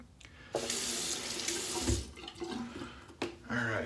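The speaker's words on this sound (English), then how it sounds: "I apologize for the running water in advance" A kitchen or bathroom tap runs steadily at a sink, a close, continuous broadband rush of water splashing into the basin with a few brief shifts in flow, heard alone without talk.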